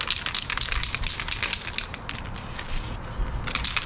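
Touch-up paint misted onto a car panel from a spray gun in quick hissing bursts, rapid short puffs close to the microphone, then a longer steady spray before the bursts return.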